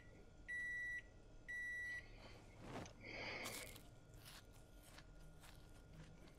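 A microwave oven in Project Zomboid sounds two long electronic beeps in quick succession, followed by faint rustling, crunchy handling sounds and light footsteps.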